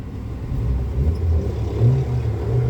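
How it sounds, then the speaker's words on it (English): An Indian car's engine revs as the accelerator is pushed, giving a steady low rumble close by that swells in a few surges over a couple of seconds, with no talk over it. "can you push the accelerator?"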